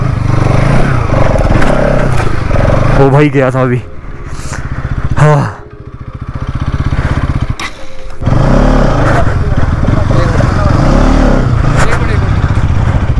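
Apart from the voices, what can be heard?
Bajaj Pulsar NS200 motorcycle riding off-road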